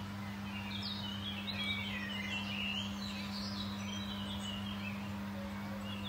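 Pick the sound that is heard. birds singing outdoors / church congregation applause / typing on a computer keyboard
birds singing outdoors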